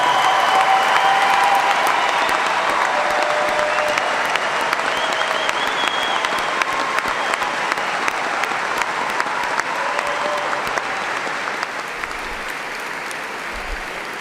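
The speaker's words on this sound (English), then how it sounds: "let us recognize with a hearty round of applause the class of 2014" Large commencement crowd at Eastern Kentucky University's 2014 spring evening ceremony applauding the graduating class, a loud, dense wall of clapping with faint cheers and voices, sustained and slowly tapering over the stretch.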